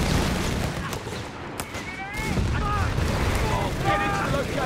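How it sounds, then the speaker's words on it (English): Gunfire in the WWII strategy game Company of Heroes 3, with British forces in a 2v2 multiplayer match: a dense, continuous rattle of shots and distant booms runs throughout, with chirpy game sounds and voices layered over it. "He's shooting!"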